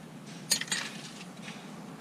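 Steel balls being pried out of a Toyota Corolla VVTi CV joint: a couple of sharp metallic clinks and light scraping close up, brief and fairly quiet, with no talking.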